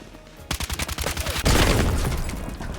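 A rocket explodes in a multiplayer first-person shooter, a loud booming blast that swells and lingers, preceded by a rapid string of gunfire bursts.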